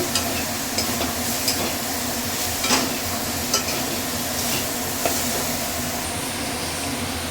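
Bottle gourd stirred and fried with spices for a vegetarian lau dish with bori, a loud continuous sizzle with rhythmic scraping and clacking of the spoon against the pan, close and steady, no voices.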